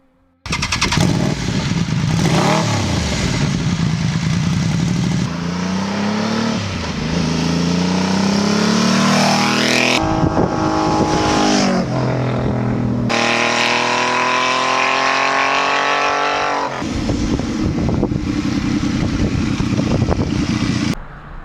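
A Triumph Trident T300 motorcycle is ridden hard and close, its engine rising in pitch through the gears and dropping at each shift, loud and continuous throughout.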